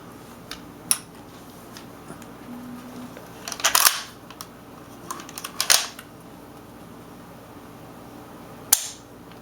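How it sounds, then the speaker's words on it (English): Several crisp mechanical clicks and snaps from a Claridge Hi-Tec L9 pistol as its military-style trigger is pulled, scattered across a quiet background with one sharp click near the end. "Watch the trigger. It's a military style trigger pull."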